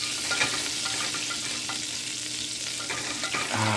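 Oil sizzles steadily in a pan while kernels are stirred for homemade popcorn inside a van, a close, continuous frying hiss with occasional scraping clicks and no talk.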